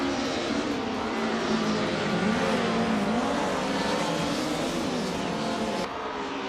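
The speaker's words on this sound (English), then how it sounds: "the race is kicking off at Misano, and leading the pack is Pippi Langstrup in" Race cars, led by a 1994 Mercedes C180 DTM, roar off the start at Misano in a racing video game, a loud sustained engine drone with shifting pitch and a gear change near the end.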